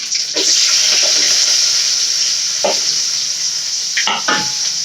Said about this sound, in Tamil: இப்போ கருவேப்பிலை வெங்காயம் போட்டுக்கலாம்.